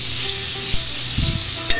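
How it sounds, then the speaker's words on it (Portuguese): Garlic frying in butter in a frying pan, a loud, dense, close sizzle with a couple of brief utensil taps. "Aí, começou a dourar o alho, antes ele queimar"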